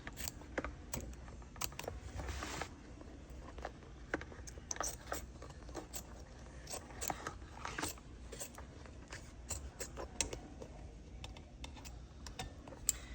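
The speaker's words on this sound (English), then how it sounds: "So now we're going to cut the eyes, around the eyes." Scissors snipping through vinyl around the eyes of a spider appliqué on a fabric banner, a series of quiet, close, irregular clicks and crunches with soft handling rustle between cuts.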